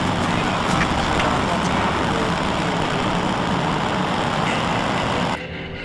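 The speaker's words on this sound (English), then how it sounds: "Liftoff of Falcon 9." SpaceX Falcon 9 rocket engines at liftoff produce a dense, steady roar that fills the air and cuts off abruptly near the end, with a voice speaking over it.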